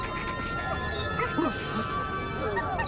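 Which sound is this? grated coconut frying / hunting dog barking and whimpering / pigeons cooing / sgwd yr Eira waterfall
hunting dog barking and whimpering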